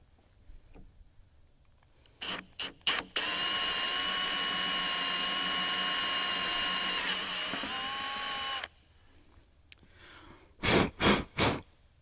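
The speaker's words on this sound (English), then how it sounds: "So chuck that up in your drill. Enlarge this baby just one more size" A power drill whines at high speed for several seconds, close and loud, enlarging a hole in a Lawn Boy transmission, with short bursts of the motor before and after the main run.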